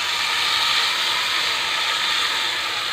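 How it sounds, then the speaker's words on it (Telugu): Marinated chicken, added to a hot pan after onions have been fried, sizzles with a steady, loud, even hiss throughout. "అలా గోలిన తర్వాత చికెన్ వేసుకోవాలి."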